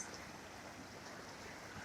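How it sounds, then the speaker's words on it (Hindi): River water flows over stones, a faint, steady broadband rush of babbling current with no breaks, heard alone without talking. "यहाँ पत्थरों पे देखिए लहरें आ रही हैं और वापस चली जा रही हैं"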